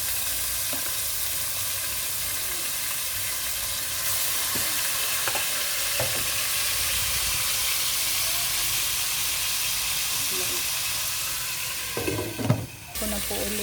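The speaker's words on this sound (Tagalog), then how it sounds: "Iprito pa ulit ng bago." Pork chops fry in a pan with a loud, steady sizzle and hiss throughout, and a few clinks of handling come near the end.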